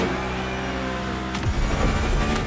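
A car engine holds a steady droning rev, then breaks into a burst of rough crackling pops through the exhaust, loud and close.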